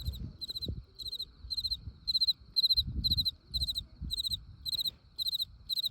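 Crickets chirp steadily at night in a mountain village in West Sumatra, a close, rhythmic pulsing trill repeating in regular bursts, with faint low rustling and footsteps underneath.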